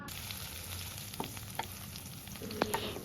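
Sliced onions fry in hot oil in a wok for a hotel-style long bean stir-fry, making a soft, continuous sizzle broken by a few light clinks of stirring.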